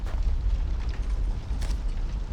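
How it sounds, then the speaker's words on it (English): Station explosion in the video game Gerda: a low, rumbling roar that holds steady for the whole stretch with no clear break. "He was caught up in the station explosion."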